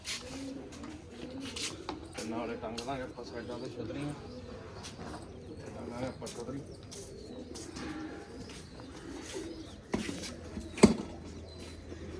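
Soft cooing from a large adult female pigeon repeats in low, throaty phrases while people talk nearby, with a few sharp knocks near the end.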